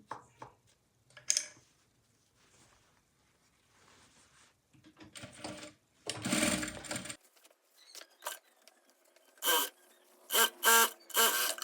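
A sewing machine stitches a katori blouse in short separate bursts of rapid mechanical whirring, close and clear, with quiet handling clicks and rustles between runs and no talking.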